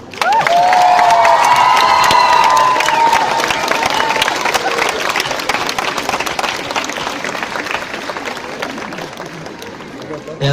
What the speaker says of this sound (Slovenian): Dame in gospodje, gromoglasen aplavz za Petra Prevca.